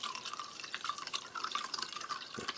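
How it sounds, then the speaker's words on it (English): Cold water pours into a glass in a trickling, bubbling stream with irregular splashes. It sounds close and fairly quiet, runs continuously and has no talk over it. "And we shall just bring this up to a full glass of cold water"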